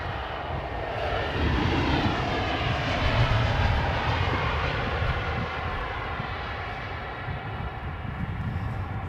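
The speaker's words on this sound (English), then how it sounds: "they're definitely landing into a tailwind" A jet airliner lands at London Heathrow Airport into a tailwind, giving a loud, continuous engine roar and broad rushing rumble that holds steady throughout at close range.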